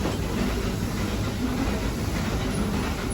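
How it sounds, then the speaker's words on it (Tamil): Ooty toy train running on its rack railway, a steady, loud rolling rumble with faint rhythmic wheel clatter that holds constant throughout, with no voices. "இது இல்லை அப்படின்னா டாய் ட்ரெயின் ஏறுறதுக்கு ரொம்ப ரொம்ப கஷ்டம்."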